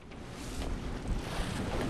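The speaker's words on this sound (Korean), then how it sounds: "오늘은 바람도 세고 파도도 거칩니다" Strong wind buffets the microphone over rough, churning sea in a warm southern coastal stretch in early winter, a steady broadband roar with surging wave wash and no voices.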